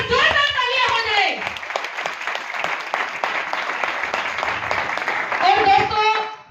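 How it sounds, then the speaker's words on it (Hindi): Loud applause from an audience at an award or recognition event, sustained dense clapping that runs nearly the whole time, with a voice speaking at the start and near the end. "और जोरदार तालियां हो जाए।"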